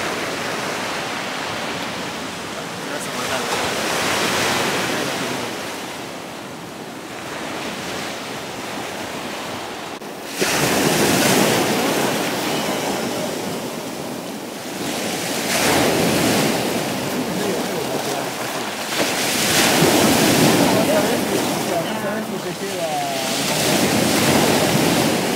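Sea waves roll onto the beach at Ascea under an overcast sky, a continuous roaring surf with surging swells that rise and fall, mixed with some wind buffeting.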